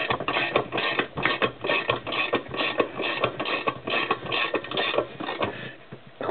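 Nut being tightened on a homemade seal press, fitting a ceramic water pump seal on a Honda CX500/GL500 Silverwing motorcycle: close, continuous metallic ratcheting and grinding with rapid uneven clicks, loud and alone.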